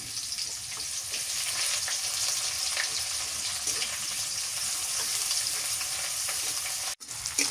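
Onions frying in plenty of oil with cloves and cinnamon, cooking for a cauliflower and beef dish, make a steady, close, continuous sizzle with faint stirring, briefly cut off near the end.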